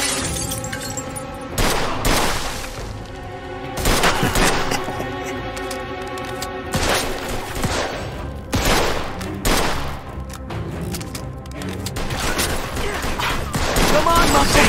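Repeated bursts of gunfire in Mafia II Definitive Edition, loud sharp volleys every couple of seconds mixed with shattering impacts, while someone talks over the action.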